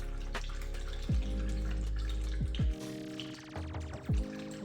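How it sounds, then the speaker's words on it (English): Coolant dripping from the bleed screw hole of a BMW 335i, with a few distinct, spaced drops landing with bright plinks over a steady low hum, close and without speech. "Just wait until it starts to come out of the bleed screw hole."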